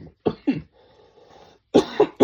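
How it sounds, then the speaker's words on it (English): A person coughs twice in quick succession, pauses through a quiet stretch, then lets out three more close, harsh coughs. "I don't know why I'm coughing"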